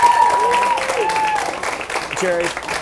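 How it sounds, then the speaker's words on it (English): A crowd at the 2011 MDA Telethon in Orlando applauds a donation check, with cheering and clapping mixed with voices and whistles, loud and steady before tapering slightly. "let's give a round of applause"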